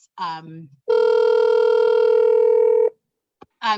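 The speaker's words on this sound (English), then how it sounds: "someone's phone is ringing" A steady electronic phone ring holds for about two seconds, loud and close, with brief talk just before and after it.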